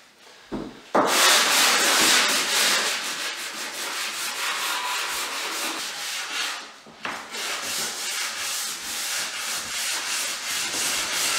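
Plywood flooring planks cut into 8-inch strips being sanded along their edges, a steady loud abrasive rubbing that runs almost continuously with one brief pause, no voices.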